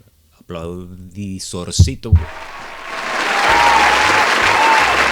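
A studio audience breaks into applause on a talk show after someone speaks briefly; the clapping swells from about the two-second mark and builds into a loud, sustained roar to the end.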